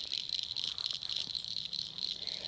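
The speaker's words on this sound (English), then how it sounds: "Listen to all those frogs." Dense, steady chorus of frogs calling near a fishing spot, a continuous trilling drone that runs loud and unbroken throughout, with no talking over it.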